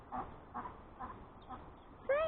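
Soft, nasal quacks from a small flock of backyard ducks, a few calls spaced about half a second apart, ending in a louder honking call close by, with quiet speech underneath.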